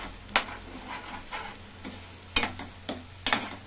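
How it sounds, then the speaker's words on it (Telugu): A spoon stirs fenugreek leaves, onion and chili paste frying in a pan, giving a few sharp scraping clacks over a steady low sizzle, close and loud with no talk. "ఇది బాగా బాగా కలబెట్టుకొని కొంచెంసేపు బాగా ఉడకాలండి."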